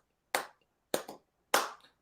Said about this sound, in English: I love the hand claps in the solo section.